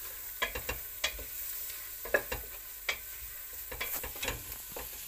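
Chicken curry with onion, garlic, ginger, chilli and curry powder being stirred in a pan, giving a soft sizzle broken by a string of irregular scraping and clacking stir strokes, close and quiet.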